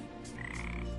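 A frog croaks once in a drawn-out, steady call, fairly close and quiet, with no talking over it.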